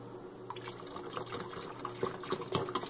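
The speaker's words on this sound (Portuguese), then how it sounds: "Então primeiro a gente coloca um pouco da água." Water being poured into a homemade liquid soap mixture with a salt solution: a steady close splashing and gurgling pour that swells slightly toward the end, with no talking.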